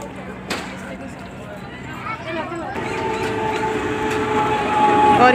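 A Vande Bharat Express train runs with a steady rumble and rising rail clatter that builds toward the end, with a sharp click early on and voices talking over it.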